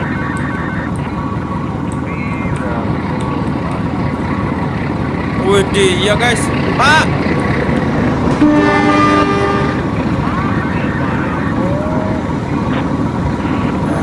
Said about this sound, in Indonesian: Kereta api peti kemas.